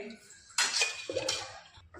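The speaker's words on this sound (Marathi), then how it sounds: "इथं तवा तापत ठेवला आहे, त्याच्यावर मी थोडंसं तेल टाकते." Oil poured onto a heated tawa griddle for street-style pav bhaji hits with a sudden loud sizzle that flares again a moment later, then settles into a softer hiss.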